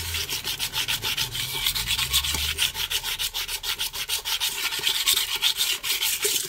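Scrubbing with ash and sand outdoors in the Jamaican countryside near Mandeville, a loud, close, gritty rubbing in rapid, even back-and-forth strokes that continues without a break.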